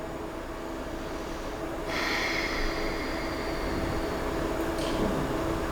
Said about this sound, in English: Nice inhalations and deep exhalations.